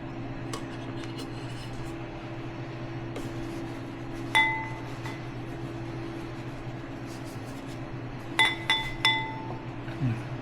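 Goat yogurt ingredients are tipped into a glass jar, giving a few sharp glassy clinks and knocks, one isolated and then a quick cluster, over a steady low hum in a quiet kitchen.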